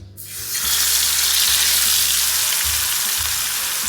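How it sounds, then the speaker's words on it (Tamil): Fish dropped into hot coconut oil on an iron tawa bursts into a loud, steady frying hiss that starts abruptly and holds close up for the rest of the moment, with no speech. "எண்ணெய் சூடானோன்னு நம்மளோட ஃபிஷ்ஷை வந்து உள்ளே போட்டுடலாம்"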